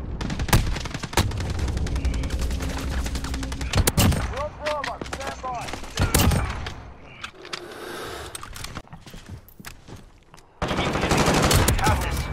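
Call of Duty gunfire crackles in repeated sharp bursts and single shots, with a loud volley near the end, mixed with in-game effects and occasional voices.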